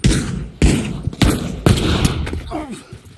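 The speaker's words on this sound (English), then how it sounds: "I hear gunshots." Several loud, sharp gunshots in the video game Pavlov ring out in quick succession, each with a booming echo, spaced irregularly across a few seconds.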